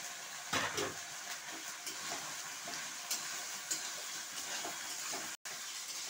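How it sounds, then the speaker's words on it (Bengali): Capsicum frying with ground spice paste in a pan for a magur fish curry, a soft continuous sizzle with light stirring scrapes and clinks, faint and close, without talk. "এখন ক্যাপসিকামটাও আমি দিয়ে দিচ্ছি।"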